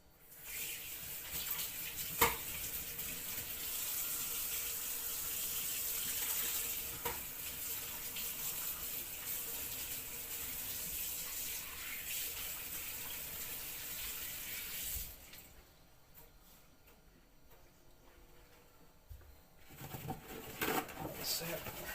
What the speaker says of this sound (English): now wash your hands.